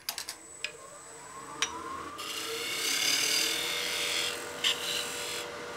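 Wood rasping and rubbing as a tenon is fitted on a small wooden baby rattle, a steady close scraping texture with a few sharp taps near the start.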